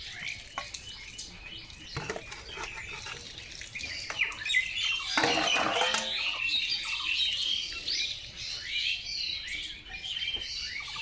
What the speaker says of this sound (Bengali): দেখো চারিপাশে পাখি ডাকছে।